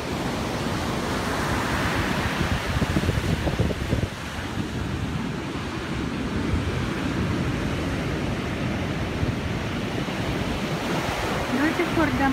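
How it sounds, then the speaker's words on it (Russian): Steady wind roars over an ocean beach in April, mixed with the wash of surf. The broadband rush stays loud and continuous throughout, with no talk. "Ветер такой чувствуется."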